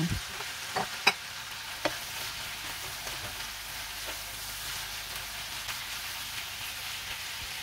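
Mushrooms sizzle in a pan for japchae noodles, a continuous soft frying hiss with a few sharp clicks and taps of stirring early on, close and steady throughout.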